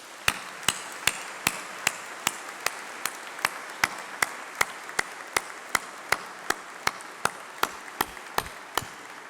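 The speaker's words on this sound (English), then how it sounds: "Please join me in a massive round of applause." Applause at a university graduation ceremony, led by sharp, evenly spaced claps close by, ringing out over a softer bed of crowd clapping.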